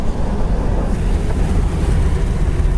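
Interior of a 1971 Ford Torino GT hardtop cruising on a highway, giving a steady low rumble of road and wind noise with no distinct events.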